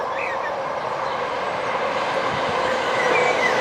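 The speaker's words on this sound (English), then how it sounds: "There goes the West Midlands Railway Service." A West Midlands Railway train rolls past close by, a steady loud rumble of wheels on rails with faint clickety-clack and a thin squeal, sustained throughout without pause.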